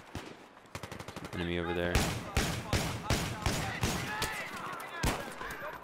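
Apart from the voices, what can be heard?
M1014 shotgun shots in video game Battlefield 3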